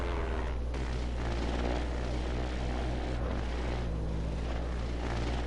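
A UAV aircraft coming in to land in the video game Trailmakers, its steady propeller-engine drone loud and continuous throughout, with no pauses.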